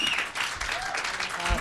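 An audience at a school board of education meeting breaking into applause, a scattered, fairly faint patter of clapping hands that fills the room, with low voices mixed in.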